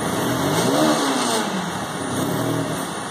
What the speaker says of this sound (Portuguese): Até chega a subir o giro, mas ó, a pressão como que tá.